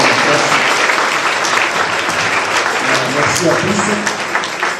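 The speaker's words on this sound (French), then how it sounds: "Félicitations à tout le monde et on s'applaudit tout le monde." A church congregation applauds at a children's Christmas Eve mass, a dense, steady wash of clapping filling the space while a voice speaks over it.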